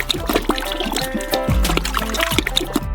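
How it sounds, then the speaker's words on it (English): Gelatin pours and trickles into juice with a soft, uneven splashing, close by, alongside light clinks and handling noises. "Five kilograms of gelatin should be poured into each of the juices."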